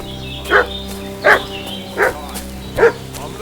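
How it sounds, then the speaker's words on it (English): Dog barking in Kingdom Come: Deliverance 2, four distinct barks at a steady pace of roughly one every 0.7 seconds, moderately close, set over a low ambient hum with no talking. "What's that dog making such a fuss about?"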